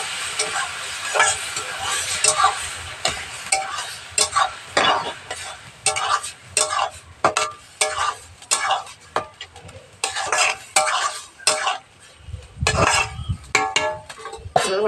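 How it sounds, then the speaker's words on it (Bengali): Bottle gourd poured back into a pan with egg, then steady stirring with repeated scraping clinks of a spatula over a soft frying sizzle, with a voice speaking briefly in the background. "এবার লাউটা আবার ঢেলে দেবো।"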